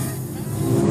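A motorcycle gang rides off, heard as a brief, steady low engine rumble at moderate distance.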